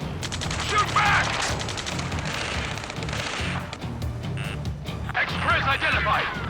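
Rapid gunfire in a hectic Ace Combat 7 ground battle, bursts of shots crackling on and off across the span, mixed with shouted voices and radio chatter.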